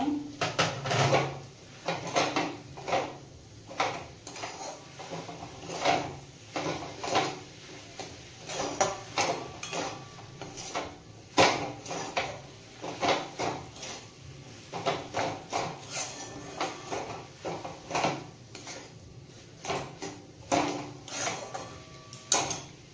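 A semolina rasmalai mixture with sugar and grated coconut is stirred in a pan, producing a steady run of close, rhythmic scraping and knocking strokes with no voices.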